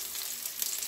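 Squid and onion sauté in cooking oil, a brief, bright, continuous hiss of frying with no voices.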